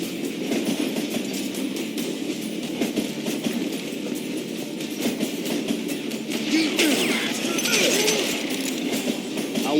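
A train in the Western shooter Call of Juarez Gunslinger rolls steadily along the tracks, a continuous loud rumble with clickety-clack of the wagons and occasional metallic clinks, with no speech.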